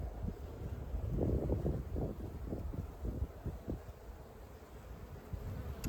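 Honeybees buzz on the comb of an open hive, a steady close drone swelling and fading through a dense, busy hum with some wind noise across the microphone.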